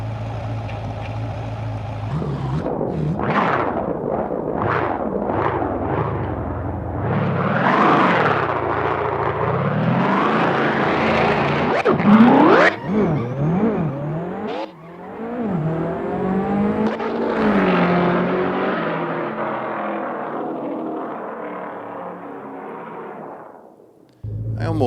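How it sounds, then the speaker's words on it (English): Ford Mustang engine at a drag race roaring loud and close, with repeated rising revs and gear shifts, then a long sustained pull that fades as the car passes; a small Abarth also races, and a voice speaks briefly near the start. "That Mustang sounds real."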